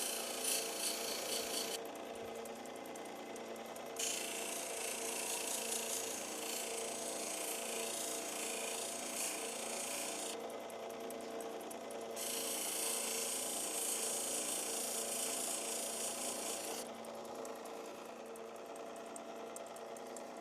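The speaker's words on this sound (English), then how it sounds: "It's a little easier to sand off." Continuous whirring of a rotary grinding and sanding machine working an Oregon sunstone hummingbird carving, steady and fairly loud, with the pitch shifting as the stone is pressed and eased against the wheel; no speech.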